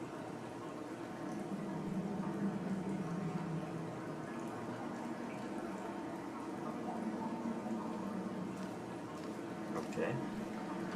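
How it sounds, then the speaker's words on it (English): Soft, steady flowing water in the video game Dear Esther, a faint continuous trickling wash that runs evenly throughout with a low murmur beneath it. "Sound of water."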